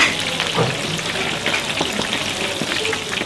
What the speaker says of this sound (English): they've got full chickens braising in there, and I guess we're gonna go see how they fry them up next